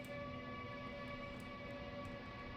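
Steady rumble of a high-speed train on the run between Munich and Augsburg, with sustained tonal hums and faint ticks throughout, even and continuous with no speech.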